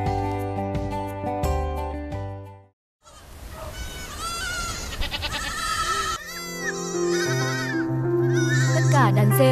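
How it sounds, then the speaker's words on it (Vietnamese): A herd of over 40 goats driven down from the mountains bleats loudly and continuously, many overlapping calls near and far, with some people talking in the background. "Tất cả đàn dê hơn 40 con được dồn từ núi về"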